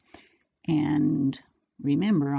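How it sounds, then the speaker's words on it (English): A pet dog in a house whines and makes vocal noises while wanting to go outside, heard in the background as short drawn-out whimpers mixed with a person talking nearby. "And that's my dog in the background."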